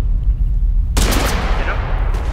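Bursts of rapid gunfire from the video game Totally Accurate Battlegrounds, loud and close, erupting abruptly after a quieter stretch and continuing as a dense volley.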